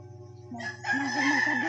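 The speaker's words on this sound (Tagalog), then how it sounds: "May manok sa silingan." A rooster crows in the background from a neighbor's yard, its call rising over steady low rhythmic noise, moderately distant and fairly loud.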